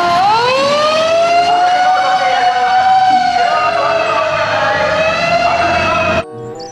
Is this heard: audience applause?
no